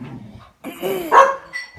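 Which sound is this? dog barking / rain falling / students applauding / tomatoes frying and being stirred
dog barking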